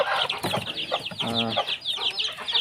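Baby chicks peep continuously under a heat lamp, a dense chorus of high, overlapping chirps close by with no talking.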